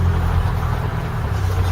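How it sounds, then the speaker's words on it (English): A vehicle's engine runs steadily as it backs up in reverse, with a loud, even low rumble and droning tone and no talking. "Then hit reverse and back we go in reverse."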